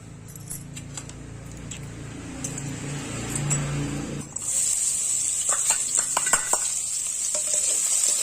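Finely chopped medium onion hitting about three spoons of hot oil in a pan for a Chhattisgarh-style fish curry, a sudden loud sizzle at the midpoint that stays as a steady bright hiss with light scraping and clinks, no talking.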